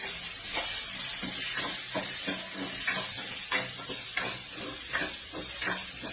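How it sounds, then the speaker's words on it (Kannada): Onion, tomato, curry leaves and asafoetida fry in a pan with a steady sizzling hiss, broken by regular scraping stirs about every half second, heard close up. "ಹಿಂಗು, ಈರುಳ್ಳಿ, ಟೊಮೆಟೊ, ಕರಿಬೇವು ಹಾಕಿ ಫ್ರೈ ಮಾಡ್ತೀನಿ ಸಾಫ್ಟ್ ಆಗಿ."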